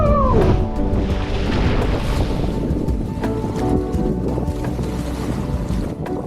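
A sailboat beating upwind in a strong 20-knot wind, steady loud wind roar over the microphone mixed with rushing water and hull noise, with no talking.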